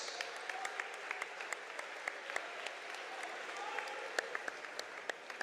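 Crowd applause for the officials at a high school boys basketball game in a gym, a steady patter of clapping with sharper individual claps, moderately distant and sustained throughout.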